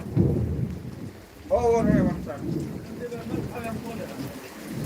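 Heavy rain pours steadily in Surva with low thunder rumbling beneath it, while a voice speaks briefly over the downpour.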